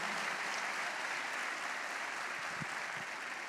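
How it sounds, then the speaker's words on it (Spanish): A crowd at a church service claps steadily and loudly throughout, a dense wash of applause with no pause. "Dale ese aplauso bien fuerte a Jesús"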